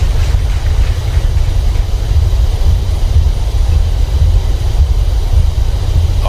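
A Boeing 737-800 BBJ2 in a flight simulator rolls out after landing with thrust reversers deployed, producing a loud, steady low roar and rumble that holds constant throughout with no voices.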